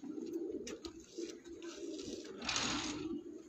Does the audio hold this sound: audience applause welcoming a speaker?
no